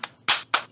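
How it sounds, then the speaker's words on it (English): Three separate hand claps ring out at a slow, even pace, crisp and close with short gaps between them, a slow golf clap. "I imagine you want to give a slow golf clap for that"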